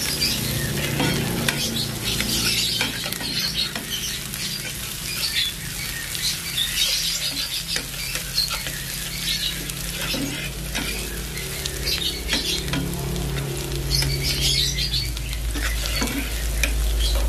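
Chilies sauté in a pan for a sweet-and-sour oyster sauce prawn dish, producing a loud, steady sizzle with frequent stirring scrapes and clinks of the utensil against the pan throughout.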